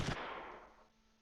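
A single sharp burst of gunfire or an explosion in the World War II strategy game Close Combat III, with a loud crack at onset decaying into a rumbling tail over about a second, no voices present.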